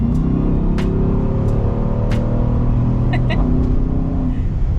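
An Aston Martin DBX 707 SUV with about 697 horsepower accelerates hard, its engine note climbing steadily through the gears as a loud cabin drone, with brief clicks and a shift near the end.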